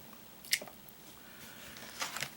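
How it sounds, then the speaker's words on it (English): Two small splashes, near and fairly quiet, as toy zombie capsules from a Brain Dead Zombies growing kit drop into water: a sharp one early, then a second with a brief trailing patter. "I'm letting them splash for dramatic effect"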